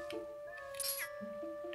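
A cat meows in The Legend of Zelda: Twilight Princess, giving a few short, faint calls over steady background game music.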